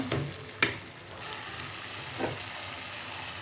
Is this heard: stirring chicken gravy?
yes